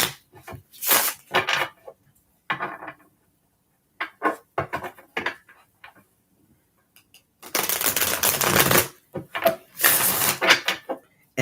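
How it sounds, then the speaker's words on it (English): A deck of Gilded Tarot cards is shuffled in short bursts of riffling and clacking, a few brief rapid flurries separated by pauses and then two longer, louder riffles, close to the microphone. "Give them a couple good shuffles."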